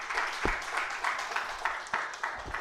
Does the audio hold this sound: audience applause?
yes